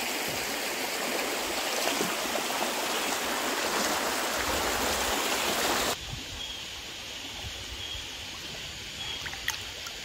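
A narrowing Konkan stream where crabs are being hunted flows with a steady close rush of water that turns softer after about six seconds, with no voices.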